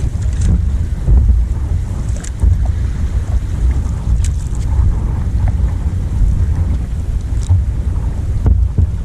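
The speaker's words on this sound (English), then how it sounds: "The wind we're feeling is coming from about 1 mile. 1 mile upwind to the next shore." Steady wind buffets the microphone on an open lake in a northern wilderness canoe area, gusting over about a mile of water from the far shore, with waves lapping close by and no talk throughout.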